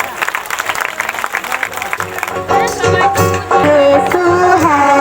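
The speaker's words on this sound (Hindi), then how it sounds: "ताली बजाएंगे जोर से परमेश्वर के लिए" A congregation at a live Easter church meeting clapping loudly in rhythm, first as a steady patter of hands, then joined by louder singing and music.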